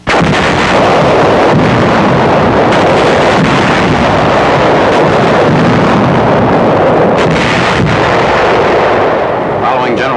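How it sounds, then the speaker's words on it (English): A field artillery battery fires an 8-inch gun point blank at the massive walls of a besieged fortress, a dense, continuous roar of booming gunfire and blasts with wind buffeting throughout. "A field artillery battery brings forward an 8-inch gun on 11th September to fire point blank at the massive walls surrounding the fortress where Nazi paratroop General Hermann Bernhar"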